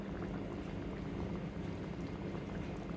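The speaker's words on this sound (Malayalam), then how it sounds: "അതിനുശേഷം ഞാനൊരു ശകലം തേങ്ങാപ്പാൽ ഒഴിച്ച് കൊടുക്കുവാണ്" Coconut milk is poured into a pot of chicken kurma, producing a soft, steady liquid gurgle and bubbling simmer heard up close without any voices.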